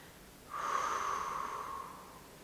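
One slow, audible breath drawn close up during a yoga stretch, swelling in and then gently fading over about a second and a half in an otherwise quiet room.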